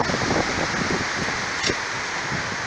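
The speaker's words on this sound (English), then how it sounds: "It's starting to pour!" Heavy rain pouring during a windy summer storm outside a yard, a loud, dense, continuous hiss of downpour heard up close and alone.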